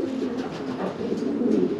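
Pigeon cooing in a loft of racing pigeons, soft continuous low murmuring coos layered from several birds close by, steady and alone without speech.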